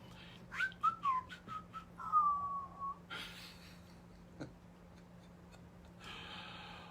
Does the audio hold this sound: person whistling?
yes